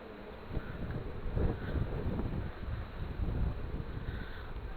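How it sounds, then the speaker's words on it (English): Outdoors beside a lead-melting setup for making fishing weights, wind buffets the microphone in a constant low rumbling roar with irregular gusts and no talking. "Bit of a wind here as well"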